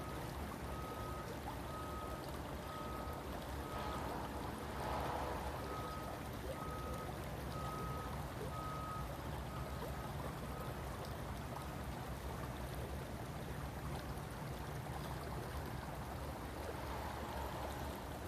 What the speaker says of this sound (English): sitting on this willow tree with me over the creek as it flows under the willow